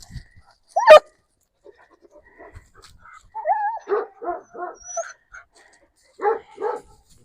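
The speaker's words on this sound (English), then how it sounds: "Oh, look, goats." Several short bleats from goats in an outdoor setting, a run of four close calls in the middle and two more near the end, following one sharp dog bark at the start.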